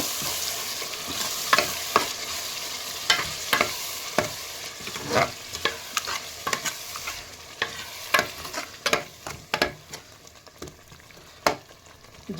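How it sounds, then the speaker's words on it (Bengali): Chicken curry with yogurt stirred into it frying in a pan, a utensil scraping and clacking in irregular strokes over a steady sizzle, close and fairly loud with no talk. "দেখেন দইটা দিয়ে দিলাম পুরোটা, দিয়ে আবার আর একটু নাড়াচাড়া দিয়ে দিই।"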